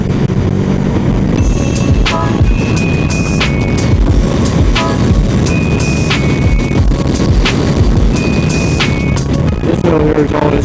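A KTM Duke motorcycle, either a 390 or an 890, rides Kentucky back roads, its engine and loud wind rumble dominating throughout with faint rising whine and shifts, and gravel or road noise underneath.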